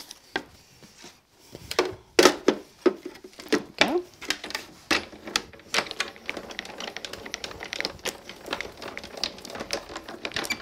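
A die-cutting machine runs a card through in an irregular series of close clacks, knocks and cranking rattles, some louder thumps early on, then settling into a faster, steadier clatter.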